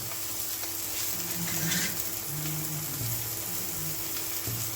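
Paneer slab sizzles on a hot tawa griddle, a continuous close frying hiss with a few faint scraping or stirring touches and a soft bump near the end.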